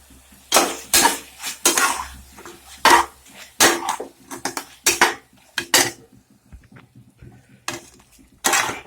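Fried baby potatoes being tossed into masala in a pan for a dry potato roast, with repeated loud metal clanks and scrapes of a spoon against the pan in an irregular rhythm, close by and without speech.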